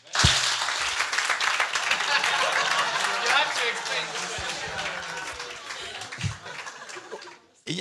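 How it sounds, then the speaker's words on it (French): A church congregation breaks into applause, a dense burst of many hands clapping close by with scattered laughter mixed in, holding steady for several seconds before fading, with a voice heard under it. "Je pense que ça mérite un applaudissement"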